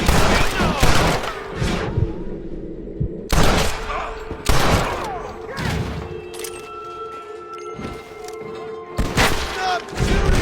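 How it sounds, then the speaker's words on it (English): Bursts of gunfire in a Red Dead Redemption shootout, loud clustered volleys of shots separated by brief lulls, with a few heavy thuds and voices in the background. "Stop shooting!"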